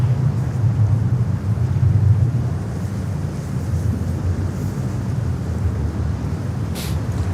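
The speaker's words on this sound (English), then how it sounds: "Sounds very windy." Strong wind buffets the microphone at JFK airport on a freezing day of about 37°F, a steady roaring rumble with gusty swells and a constant low hiss.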